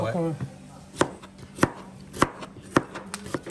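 A knife chops onions and fish for cooking on a board in steady, evenly spaced strokes, about one every half second, close and distinct over a faint hum, after a brief voice at the start.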